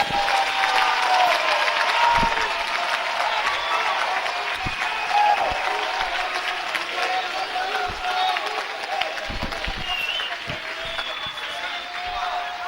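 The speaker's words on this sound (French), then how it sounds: "De tout votre cœur, applaudissez pour le Seigneur." A church congregation applauds for the Lord, a steady wash of many hands clapping for several seconds with cheers and voices mixed in, full and sustained throughout.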